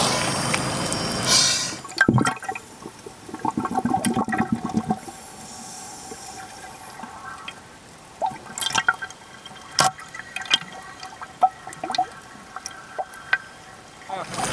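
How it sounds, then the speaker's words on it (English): Water splashed by hand toward an unresponsive diver during a rescue diver training exercise: a loud broadband splash burst at the start, then lighter drips and sloshing, with people talking intermittently. "We're going to splash the diver on our approach."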